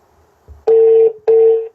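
Two long electronic ringback tones from an unanswered phone call, each lasting about half a second with a short gap between, loud and close, preceded by a faint low thump.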